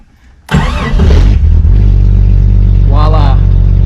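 A 1996 Jeep Cherokee XJ 4x4 is started with the key: a short crank catches after about half a second, then the engine settles into a loud, steady idle up close, with a brief voice or squeal partway through.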